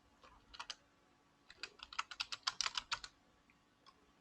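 Fingers type on a computer keyboard up close, a short burst of key clicks, a pause, then a quick rapid run of about a dozen keystrokes ending in a louder tap.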